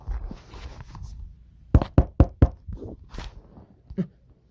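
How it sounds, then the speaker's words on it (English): Sharp knocks on an apartment door, four quick raps in a close cluster followed by a couple of softer taps, near and clear over faint room noise. "someone knocked at her door."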